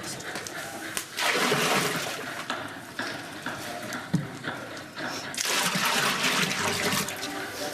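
Water poured into a pot for boiling while cooking a Tudor feast, a close, splashing rush in two bursts with a quieter gap between, and faint voices in the background.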